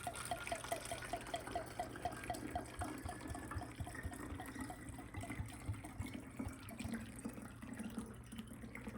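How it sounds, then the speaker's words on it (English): Copper sulfate solution is poured into a stock bottle, giving a faint, steady trickle and splash of liquid that runs for several seconds against a quiet room. "So we'll just pour that in."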